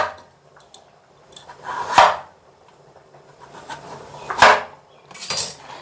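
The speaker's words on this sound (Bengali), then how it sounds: "এদিকে আমি আলুটা কেটে নিচ্ছি" A knife slicing potatoes into quarters on a board in a home kitchen, with a few sharp cutting knocks and clinks spaced apart, near and fairly quiet, no talking.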